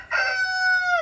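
A young Thai-American cross cockerel of about 3 kg crows once, a single loud, close, sustained call that holds steady before tailing off.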